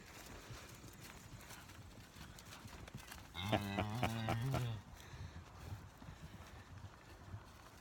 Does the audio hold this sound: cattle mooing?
yes